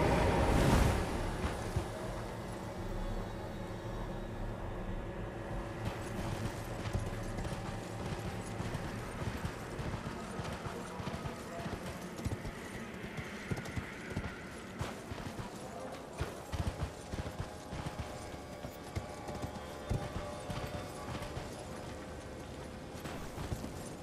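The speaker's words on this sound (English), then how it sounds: "we can probably just sprint our way out of here on the horse" A horse gallops in Elden Ring, its hooves clip-clopping in a fast rhythm under a windy, rushing ambient game soundscape, with no voices.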